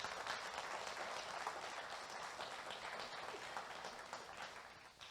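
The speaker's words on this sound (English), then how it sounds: "Let's please give a round of applause for our panelists." Faint, steady applause rises from the audience at a small business banking panel during a 2018 summit, a soft continuous patter of many hands that slowly fades near the end.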